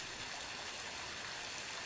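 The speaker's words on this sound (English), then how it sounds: "rain, but like really reverby" Steady, dense rain noise from the black-and-white FPS Creator game Sail to the Moon, heavily reverberant and washing evenly through the whole moment with no breaks, fairly quiet and alone without any voices.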